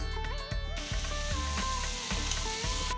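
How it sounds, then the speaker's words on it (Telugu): Boiled chickpeas and curry leaves are stirred in a pan over hot oil, with a steady sizzle and scraping stirs. "నెక్స్ట్ ఉడకపెట్టిన శనగలు వేసి కొద్దిగా కరివేపాకు వేసుకుని మొత్తం బాగా కలపాలి"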